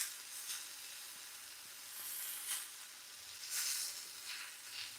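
Sausages frying in a pan for a high-protein breakfast: a soft, steady sizzle and hiss with a few louder bursts of spitting, fairly quiet and with no talk over it.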